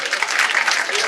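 Audience applause during a Ramcharit Manas performance in Kanjee, Baloda Bazar, a dense steady burst of many hands clapping together, loud and continuous with no break and no voices rising above it.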